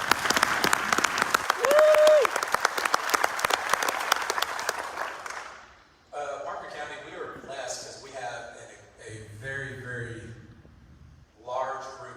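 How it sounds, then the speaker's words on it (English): A crowd at a candidate forum in Parker County, Texas, for State Senate District 30 gives about six seconds of loud, sustained clapping. The applause then stops and a voice speaks into a microphone. "If y'all could just give them a big round of applause."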